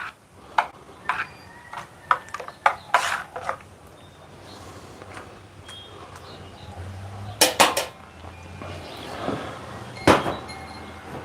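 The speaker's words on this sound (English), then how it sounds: "Give this a quick stir." Spoon stirring homemade plant-based milk, with scattered clinks and taps against the container, several sharp knocks close by, in a kitchen with no talking.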